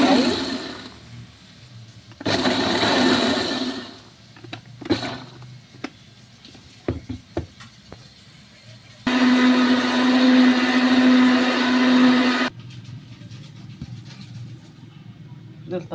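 A blender whirs loudly for a few seconds, steady and continuous, mixing thick chocolate cake batter with cocoa, between stretches of quieter kitchen clatter and brief bursts of motor noise.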